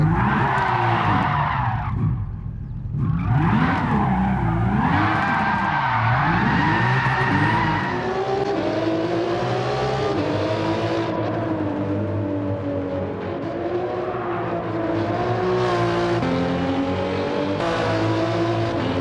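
A 1997 Toyota Supra RZ in Gran Turismo 7 drives hard and skids, its engine revving up and down steadily while tires squeal loudly through long slides, nearly continuous for the whole stretch.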